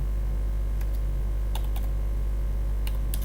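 Sparse, light keystrokes on a computer keyboard while coding PHP, a few isolated taps and short pairs over a steady low electrical hum, fairly quiet and close.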